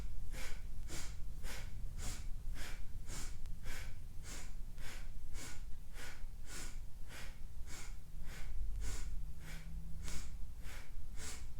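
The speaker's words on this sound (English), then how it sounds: "we can add like a cleansing breath, like a Kapalabhati breath to this" Rhythmic Kapalabhati cleansing breaths repeat in a fast, steady pulse of sharp nasal exhales, about two per second, continuing evenly throughout at close range without speech.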